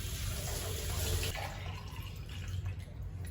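IKEA drinking glasses are rinsed in a kitchen sink under a running tap, producing steady splashing, trickling water close by with no talk.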